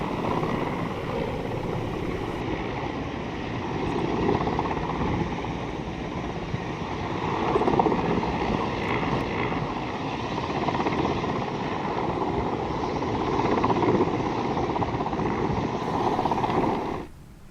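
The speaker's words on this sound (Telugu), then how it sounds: "ఓరోకల్ నుంచి సున్నిపెంటకు హెలికాప్టర్లో చేరుకున్నారు ప్రధాని." A helicopter carrying the Prime Minister from Orvakal to Sunnipenta near Srisailam, heard as a loud, steady rotor and engine drone that holds for the whole stretch with no voices.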